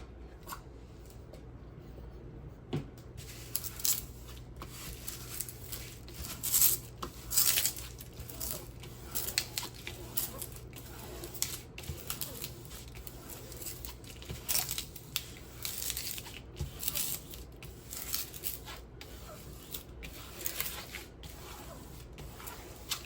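Plastic protective film is smoothed back over a diamond painting, producing a long run of soft crinkling, rubbing and tapping noises, close and fairly quiet, with no voices.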